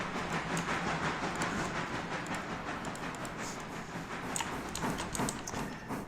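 A train rolls along the rails in the railroad simulation game Railroader, a steady, continuous rumble of wheels with faint clicking, mid-distance and moderately loud, with no talking.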